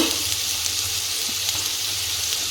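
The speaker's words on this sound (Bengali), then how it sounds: "এবার পেঁয়াজটা ভেজে নেব।" Onion frying in a pan, a steady broad sizzle that holds evenly for the whole stretch, close and moderately loud with no voices over it.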